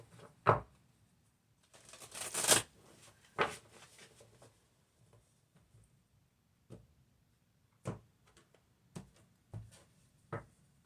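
Tarot cards are shuffled in short bursts of crisp riffling and slaps, separated by quiet gaps, close up.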